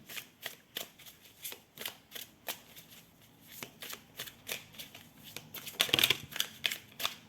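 Tarot cards are shuffled by hand for a nine-card spread, a quick string of crisp riffling swishes in an uneven rhythm, close and clear with no talking.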